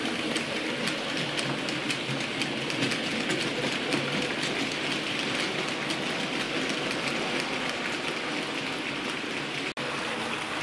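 A Standard Class 5MT steam locomotive hauls coaches of the kind used on the Bluebell Railway, giving a steady, continuous rolling rumble and hiss at moderate distance, with a brief click near the end and no voices.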